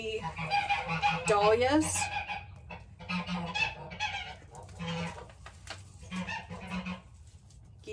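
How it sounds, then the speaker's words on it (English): Geese honking outdoors near a spring garden, loud repeated nasal honks and cackles in clustered bursts close by, with a person speaking briefly among them. "Geese everywhere."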